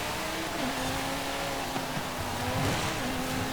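Lamborghini Centenario race car engine in the Forza Horizon 5 racing game, a steady, loud droning engine note holding high revs throughout with slight pitch shifts, no talk over it.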